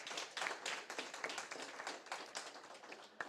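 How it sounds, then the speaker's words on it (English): Scattered, fairly faint clapping from an audience at a school debate semi-final, individual claps distinct in a loose rhythm rather than a full roar. "Please give them a round of applause."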